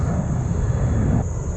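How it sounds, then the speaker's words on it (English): Airplane passing overhead near a creek, a steady loud engine roar with a high whine that fades slightly toward the end. "Always gotta deal with the airplanes when we're out in this spot"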